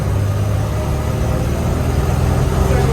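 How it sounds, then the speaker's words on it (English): A 1980 Toyota Land Cruiser with a three-on-the-tree manual gearbox rumbles steadily on a test drive, its engine droning low and constant from inside the cab with no break. "Test drive on the 80 Land Cruiser."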